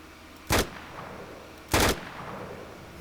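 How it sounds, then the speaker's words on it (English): Two short, loud bursts of gunfire in the survival video game Vein, about a second apart, standing out against a quiet low background. "We're shooting a lot already."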